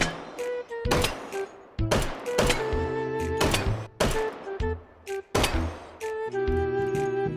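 Handgun shots fire in the VR game H3VR as a series of sharp, loud bangs at irregular intervals, each followed by a short ringing tail and mechanical clatter.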